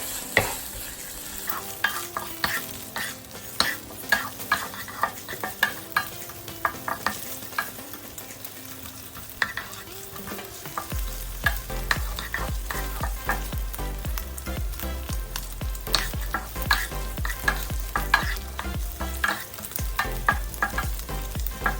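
Bacon frying in a pan for carbonara ramen, its fat rendering, with frequent scraping and clattering stirs over a crackling sizzle that grows fuller and louder partway through.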